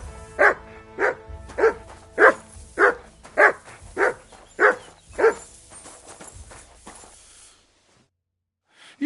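A dog named Mutt barks about ten times in a steady, evenly spaced series, close and loud, with the barks tapering off toward the end into quiet.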